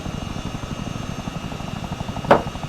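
Arma 3 military helicopter taxiing on the ground, its engine giving a steady low rotor thump and whine at moderate distance, joined near the end by a brief sharper burst.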